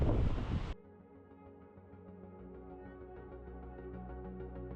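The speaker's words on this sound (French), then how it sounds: "il y a du vent de fou, je sais pas si on m'entendra" Blustery wind near Melbourne, Australia buffets a microphone in a loud rush at the start, then settles into a steady low rumble with tonal hum beneath.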